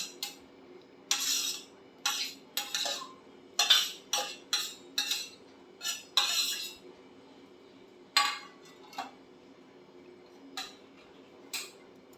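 Spoon scrapes and taps against a juice vessel as jamun pulp is scooped in, a series of short clinks and scrapes in an uneven rhythm, close and clear over a quiet background.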